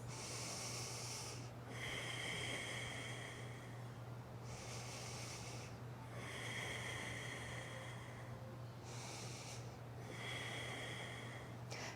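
Deep, close breathing while holding a yoga pose: three slow, airy inhale-exhale cycles with strong nasal rush, evenly paced over a low steady hum.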